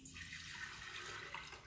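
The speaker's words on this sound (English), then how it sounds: "I'm going to take the lid off, and I'm going to pour in some water." Water poured into a Princess House electric kettle, a faint continuous splashing gush into the open kettle, steady throughout.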